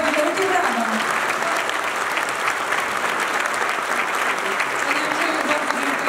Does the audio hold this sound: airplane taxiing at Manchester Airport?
no